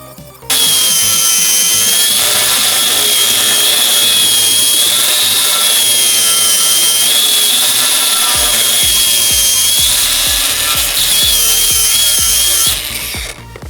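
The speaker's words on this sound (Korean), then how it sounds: "이걸 그라인더로 자르고 앉아있어" A Bosch GWX 18V-15 SC cordless angle grinder cuts continuously with a loud, close, high-pitched whine and grinding roar, starting abruptly and stopping near the end.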